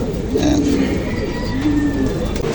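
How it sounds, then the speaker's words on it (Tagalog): Racing pigeons coo in soft, repeated low calls close by, with a few rounded rising-and-falling phrases over light background noise and some faint voices. "sakto lang po yan sa mga darating na ibon"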